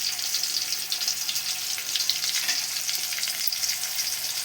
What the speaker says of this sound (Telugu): చక్కగా వేగనివ్వాలి ఆయిల్లో